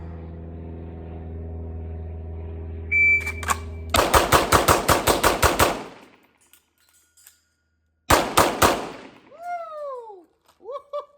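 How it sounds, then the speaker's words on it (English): Springfield Echelon pistol fired on a shooting range: a timer beep, then two rapid strings of loud, sharp, close shots separated by a pause, followed by a voice whooping. "We're gonna shoot that again and see if I can speed that time up quite a bit."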